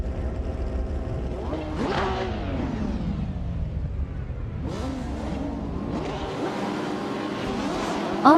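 A Lamborghini Huracan Performante race car in a racing game at Lime Rock Park revs hard through repeated rising gear pulls and shifts, loud and continuous, with other engines blending in.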